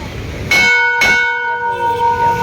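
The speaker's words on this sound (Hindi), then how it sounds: "घंटी बजा देती हूँ।" A temple bell at a Siddh Baba temple is struck twice in quick succession, each clang bright and close, leaving a long shimmering ring that slowly fades.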